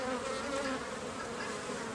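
Honey bees swarm around an opened hive frame, a dense, steady buzzing drone from many bees close up.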